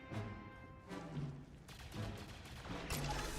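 Gunfire from retaliation shots in the game XCOM, played on hard permadeath mode, a loud, dense run of shots with several bursts spread through the moment over a steady game backdrop.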